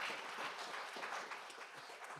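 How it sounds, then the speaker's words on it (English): A conference audience applauds softly and steadily, a faint continuous wash of many hands clapping heard from a distance, with no voices over it. "A round of applause,"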